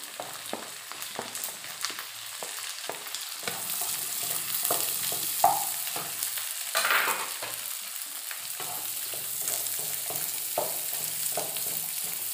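Onions frying over full flame in a pan for chilli pork, a continuous close sizzle with intermittent stirring scrapes and clatter throughout, no voices.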